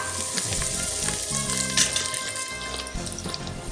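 Chopped fresh cilantro and aromatics cooking in an Instant Pot on sauté, giving a steady close sizzle with soft stirring scrapes and a faint watery trickle throughout.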